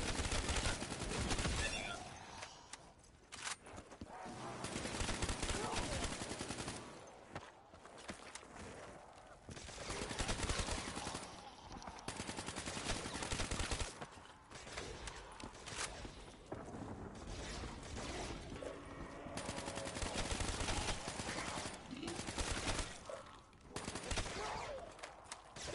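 Bursts of automatic machine gun fire in a zombies video game, loud and repeated in clusters with short pauses, under and between excited voices.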